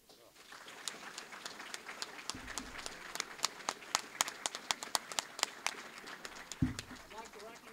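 Audience applause at a municipal candidates forum in Louisiana, Missouri: steady hand clapping from a crowd, fairly distant and moderate in level, building briefly then tapering off.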